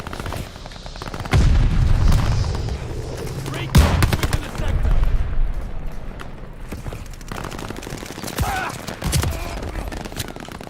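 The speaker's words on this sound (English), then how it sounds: "Mortars incoming." Mortar explosions in the Call of Duty Vanguard video game, heavy booms and bursts of gunfire erupting repeatedly over a busy, loud battle soundscape with several strong low impacts.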